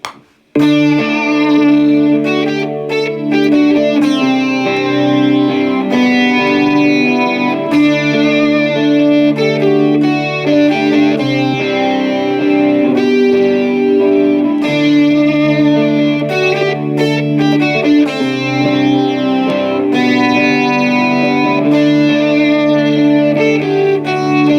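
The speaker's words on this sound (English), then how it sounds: "this one's got a little distortion on it" A distorted, heavily processed instrumental track recorded on a phone through a Synido LiveMix Solo plays continuously, thick and sustained with a gritty, saturated tone throughout.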